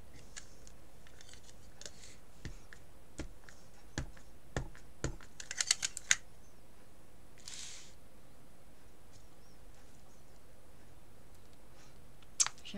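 Rubber stamps with butterfly and number designs pressed onto paper, giving soft scattered clicks and taps that cluster into a quick burst midway, with one sharper knock near the end, all quiet against a hushed room.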